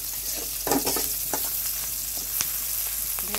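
Ginger and four or five dried chillies fry in hot oil in a home kitchen pan, a steady close sizzle with a few scraping stirs, with no talking.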